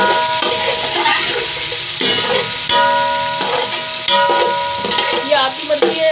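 Ginger garlic paste sizzles and crackles in hot oil for white pulao yakhni, a steady loud frying hiss with stirring clatter and a few sustained tonal lines over it, no voices.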